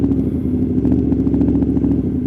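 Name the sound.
loud motorcycle riding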